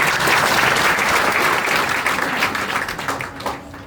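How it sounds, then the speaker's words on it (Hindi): An audience applauds loudly, dense clapping that gradually thins and fades toward the end. "एक बार तालियां बजा दो"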